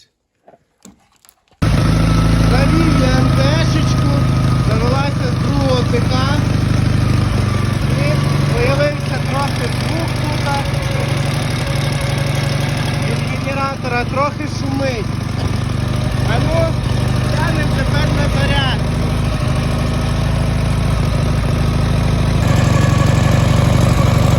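A Dnepr MT11 motorcycle engine catches after a few brief clicks, then settles into a loud, steady, slightly lumpy idle that runs uninterrupted to the end.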